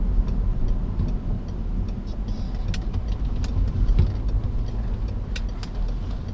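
A 2006 Peugeot 307 Feline with a 2-litre 180 hp petrol engine pulling at low revs in third gear out of a roundabout, a continuous deep, hollow drone heard from inside the car.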